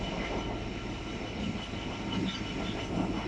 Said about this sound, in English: Oh, they put the old wagons back.